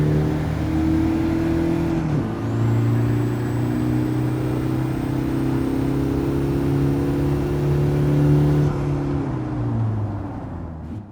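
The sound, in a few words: 2015 Mazda Demio XD Touring engine, video game driving test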